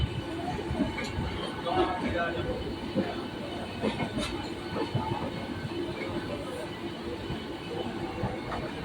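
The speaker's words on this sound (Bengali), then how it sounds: "পাশ দিয়ে আর একটা লোকাল ট্রেন বেরিয়ে যাচ্ছে ব্যান্ডেল লোকাল" A Bandel local train rumbles steadily past nearby at Howrah station, with rattling wheels and faint clicks and squeals, while people talk in the background.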